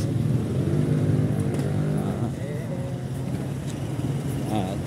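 A car drives past on a roadside where people are walking. Its engine drone is loud at first and then fades as it moves away, with brief voices heard over it.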